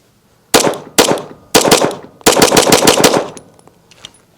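A Staccato 2011 pistol fitted with a Lucky 7s ported barrel fires loud, sharp close shots, three single reports then a fast string of about eight rounds, each with a ringing tail.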